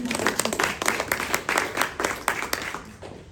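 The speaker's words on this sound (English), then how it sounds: "So round of applause for her." A small audience at a university design talk claps in uneven, close bursts, individual hand claps audible and tapering off toward the end.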